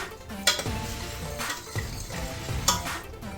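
Food frying in a pan for Kannada-style mango rasam, with a steady low sizzle and several bright clinks and scrapes of a utensil against the pan, no talk.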